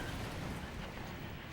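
A war machine launching a stream of glaives in World of Warcraft, heard as a dense, steady roar of rumbling impacts and mechanical noise with no gaps, loud and unbroken, without speech.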